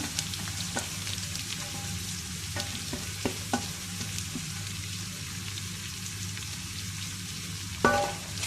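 Three large onions, chopped small, sauté over a medium flame in a pan for kadai chicken. A quiet, steady sizzle runs throughout, with a few light stirring clicks and a louder scrape near the end.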